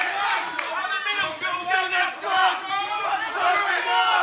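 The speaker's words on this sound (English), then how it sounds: "The whole crowd is getting behind these two young men." Crowd at a karate kumite fight roaring and cheering continuously, a dense wash of shouting voices swelling in waves for a few seconds.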